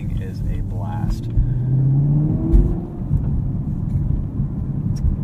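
A 2018 Chevrolet Camaro 2SS with a six-speed manual, driven at night, gives a deep engine rumble inside the cabin that climbs in a short rev before settling, with a voice faintly present underneath.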